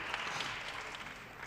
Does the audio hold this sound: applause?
yes